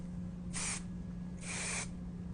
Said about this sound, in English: I'm just applying a little bit of dry texture spray into the inside of the ponytail